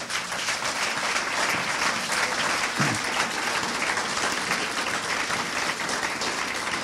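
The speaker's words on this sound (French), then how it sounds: "Acclamons le Seigneur Jésus" Church congregation applauding together, a dense, steady burst of clapping from many hands that fills the whole stretch.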